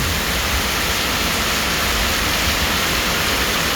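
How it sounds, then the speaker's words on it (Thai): Heavy rain pours down hard enough to flood the road, a dense, steady hiss that holds at an even, loud level throughout with no breaks and no voices. "ฝนมาตอนแรง มาอย่างหนักเลย"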